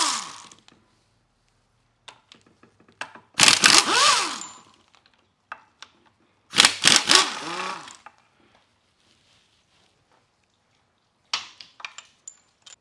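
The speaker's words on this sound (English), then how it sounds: "these bottom bolts typically need to get wrenched out" Bottom bolts on a Subaru SVX 4EAT automatic transmission being wrenched out: two loud, close bursts of whirring power-tool drive about three seconds apart, separated by quiet metallic clicks and taps, with a shorter burst at the end.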